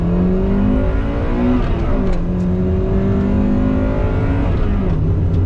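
A 2001 Acura Integra Type R engine revs hard, its high-pitched exhaust climbing and falling through several rises and dips in pitch, loud and close and running continuously.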